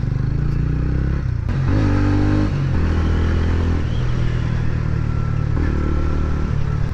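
A 250cc motorcycle rides over a big speed breaker, engine droning steadily up close with a brief clatter and bump as it rolls over, then the motor hum carries on under wind rush.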